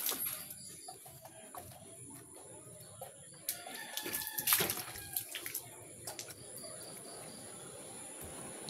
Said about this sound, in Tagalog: Ana puno day ang galon diri o sa tulo sa ulan.